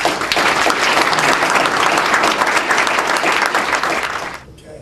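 A gala audience claps and cheers in dense, sustained applause that fills the room, then tapers off quickly in the final moment.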